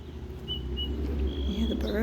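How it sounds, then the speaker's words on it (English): Birds chirp in short, thin bursts outdoors beside a river among wildflowers, with steady low background rumble and no speech. "You hear the birds?"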